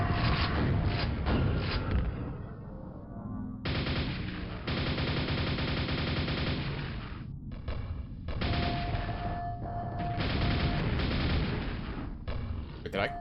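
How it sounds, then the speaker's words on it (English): Grenade explosions in Quake amid heavy gunfire, with repeated loud bursts and thuds densely layered and continuous, and talk running underneath. "there's like grenades just flying everywhere"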